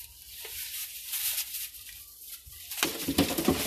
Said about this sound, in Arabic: لسه بدأنا نربوا الحمام بأربع تجواز